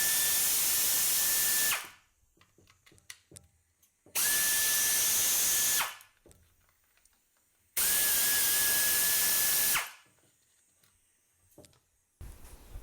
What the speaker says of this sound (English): I'm going to use my 1/4" air ratchet with a 10mm socket.